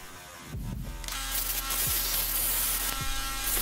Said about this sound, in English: I'm going to use a disc sander to give it the right angled bevel to fit this piece into the tripod snugly.